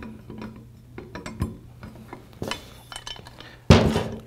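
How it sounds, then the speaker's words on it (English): Allen key tightening screws on CNC control panel parts, a series of close, small metallic clicks and scrapes with a sharper clank near the end. "we'll use the Allen key to tighten everything together"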